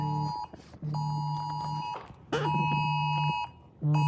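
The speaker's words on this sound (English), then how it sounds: "That is the national weather alert on my phone" A national weather alert sounding on a phone: loud, steady electronic tones in long repeated blasts of about a second each, separated by short gaps, with a brief voice heard between two of them.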